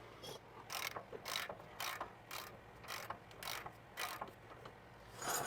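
A ratchet wrench tightens suspension bolts on a 2020-2024 GM 2500 truck, producing a quiet, steady series of clicking ratcheting strokes in regular bursts, close by with no voices.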